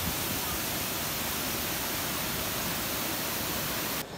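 A waterfall in the Sierra Nevada near Minca, Colombia, gives off a steady, dense, hissing roar of falling water. It fills the whole scene evenly at close range and cuts off at the end.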